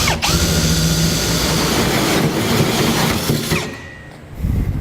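A 3.5 inch hole saw bites through a metal truck bed, a loud steady grinding drill whine that runs continuously, then tapers off and stops near the end.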